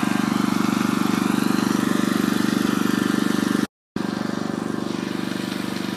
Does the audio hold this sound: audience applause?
no